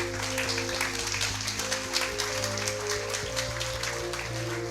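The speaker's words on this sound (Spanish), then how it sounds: "Dele un fuerte aplauso al Señor." A church congregation applauds in a strong, sustained round of clapping, with a steady low musical hum from instruments underneath and no clear talk.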